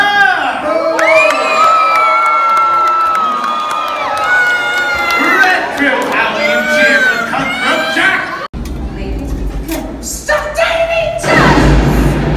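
A crowd at a pirate-themed dinner show cheers for Jose Gutierrez with loud, overlapping shouts, whoops and children's voices. The noise swells, breaks off abruptly, then surges again over a low rumble.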